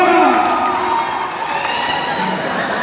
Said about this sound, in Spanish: Ese aplauso que se escuche, ese aplauso está bueno.